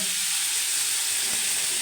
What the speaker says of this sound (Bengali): থোড় ভাজা করছি